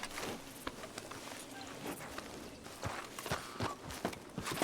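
A horse walks near Valentine in the video game, its hooves landing in an uneven, steady clip-clop on soft ground, fairly close and moderately loud with light ambient noise behind.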